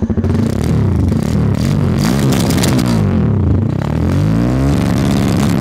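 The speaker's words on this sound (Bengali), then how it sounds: "আপনাদেরকে এই বাইকের এক্সস্টের সাউন্ডটা একটু শোনাই।" A Suzuki SF 250 or Bajaj Pulsar F250 motorcycle exhaust runs loud and close, a steady engine drone with rising and falling revs, alone with no talk.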